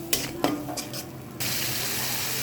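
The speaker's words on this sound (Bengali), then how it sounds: "এবার আমি মশলাটাকে ভালো করে কষিয়ে নেব।" Spices sizzling and frying in a pan for a vegetable curry, with turmeric, chili, cumin and coriander powder being stirred; short scraping strokes come first, then a steady loud sizzle takes over, close up with no talk.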